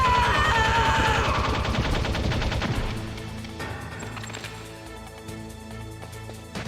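Bursts of gunfire in Metal Gear Solid play as fast repeated shots, loud at first and then thinning into sparser, quieter reports, with no voices over them.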